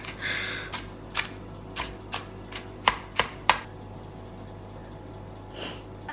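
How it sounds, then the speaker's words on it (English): Knife chopping garlic and onion on a board during meal prep: a series of sharp, separate cuts at an uneven pace, some louder than others, close by in a quiet kitchen with faint background hum. "first I'm gonna cut up some garlic and onion"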